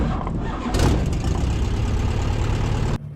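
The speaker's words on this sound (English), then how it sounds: "Clear prop, engine start." Light airplane piston engine starting: a short cranking rumble jumps into a loud, steady roar that runs for a couple of seconds and then cuts off abruptly, close to the microphone.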